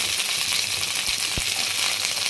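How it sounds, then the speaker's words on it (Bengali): Onions frying in a pan for a white potato curry with curry leaves: a steady, loud hiss of sizzling oil with a couple of brief low thumps, and no talk. "এবার পেঁয়াজগুলো দিয়ে দেবো।"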